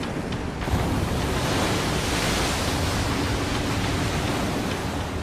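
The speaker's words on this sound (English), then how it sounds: "the first of 7 giant waves crashes over the seawall" A broad, continuous roar of churning water as a giant tsunami wave crashes over a seawall at the Fukushima nuclear plant on the coast, steady and loud throughout with a wind-like rushing texture.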